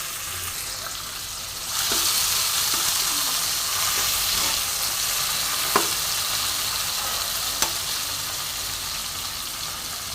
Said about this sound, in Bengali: আমি এবার 2টো টমেটো এর মধ্যে দিয়ে দিলাম।